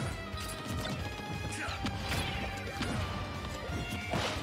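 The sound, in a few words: dash attack hit in Super Smash Bros video game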